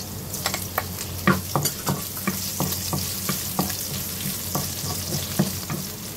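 Garlic and ginger sizzle steadily in a frying pan while choy sum is being cooked, with a constant hiss broken by scattered sharp crackles and spatters, close and fairly loud.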